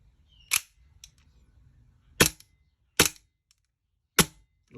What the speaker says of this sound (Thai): เทสระบบกันนะครับ ไม่มีลูกกระสุนนะครับ